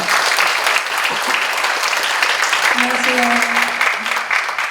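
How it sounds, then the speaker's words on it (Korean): A crowd at a youth day ceremony applauds to welcome a vocalist, sustained loud clapping throughout, with a brief voice and faint tonal sound rising partway under the applause. "큰 박수 부탁드리겠습니다."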